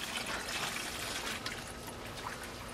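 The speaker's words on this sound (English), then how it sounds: "I'm just going to take this rainwater and put it into these buckets that need to be filled up." Collected rainwater is poured into buckets, giving a steady, faint wash of splashing and trickling liquid that runs continuously without pause.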